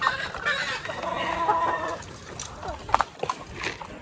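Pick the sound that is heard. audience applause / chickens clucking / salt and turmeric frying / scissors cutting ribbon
chickens clucking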